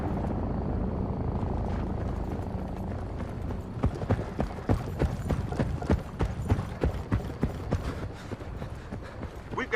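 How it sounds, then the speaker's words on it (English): A helicopter flies over a battle in the video game Battlefield: Bad Company, its steady rumble running under rapid gunfire cracks and shouted voices. "Chopper, over there."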